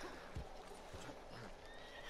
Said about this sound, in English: The horse attacks me back!